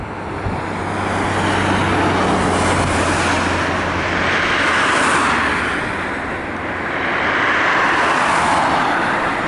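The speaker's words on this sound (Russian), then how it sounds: "Движение оживленное машин" Busy car traffic sweeps along a road in a constant loud wash of tyre and engine noise, swelling and fading as vehicles go by, with no talk.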